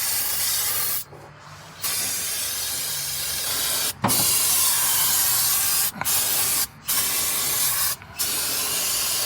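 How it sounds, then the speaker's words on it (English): Aerosol brake cleaner sprayed onto a master cylinder on an F100 shortbed, a loud continuous hiss broken by several short pauses between long bursts. "This is the only way to use brake clean. Basically use the whole bottle."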